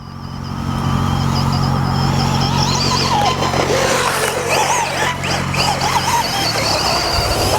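A Losi Promoto-MX 1/4-scale RC motorcycle runs with a steady, loud, buzzing motor whine that holds close and continuous, with slight rises in pitch and no talking.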